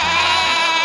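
A person imitates a goat with a short, wavering bleat, loud and close, lasting under a second.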